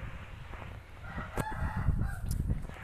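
A rooster crows in a Roblox ghost map, its call rising over a low background rumble before trailing off, moderately close and alone.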